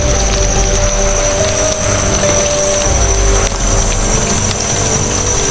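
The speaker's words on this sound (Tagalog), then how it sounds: "So buti ay hindi lumakas yung ulan." Steady rain patters loudly and continuously, a dense hiss of drops with faint knocks underneath and no voices.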